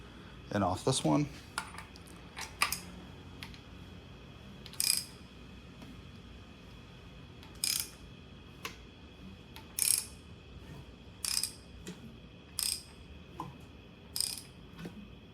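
A hand ratchet clicks in short bursts while rolling over an LS V8 engine during a cam and valve spring job, crisp metallic pawl ticks repeating every second or so, close by in a quiet workshop.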